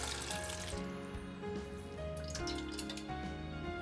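Boiled red beans for koshian being drained through a sieve, with steady liquid trickling and dripping, close and moderately quiet, a continuous wet pour with faint splashes and no talking.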